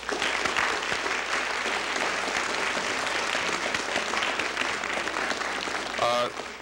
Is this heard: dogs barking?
no